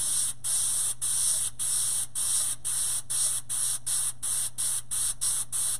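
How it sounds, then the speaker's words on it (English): An airbrush sprays paint in a rhythmic series of about a dozen short, hissing bursts with brief gaps between them, close and steady over a faint background hum, with no talking. "you want to spray from the side away from where it opens"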